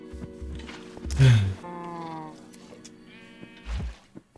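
Sheep in the Minecraft Feed The Beast modpack bleating in short, nasal game calls, a few overlapping bleats close by with small thumps and blocky footsteps between them.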